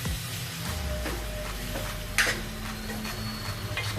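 Chicken curry fries on a high flame, giving a steady close sizzle with occasional stirring scrapes and one louder clatter partway through.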